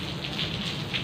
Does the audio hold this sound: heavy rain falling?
yes